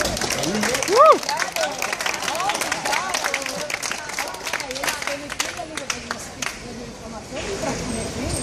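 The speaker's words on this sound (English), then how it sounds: "So round of applause to Maria, everyone" Walking tour group in Salvador clapping and cheering for their guide, a burst of scattered close applause with a shout, mixed with chatter and outdoor street noise.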